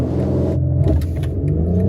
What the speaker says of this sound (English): We'll do one more launch now that it is clear.